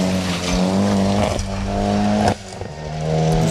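A Mitsubishi VR4 rally car passes close at a dog-themed sprint rally, its engine loud and strained as tires squeal, with a sharp cut in the engine note partway before it picks up again.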